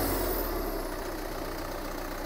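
A Guard World WD 754 tractor pulls a 13-tine cultivator through a field, a steady low diesel drone that runs close and unbroken without talk.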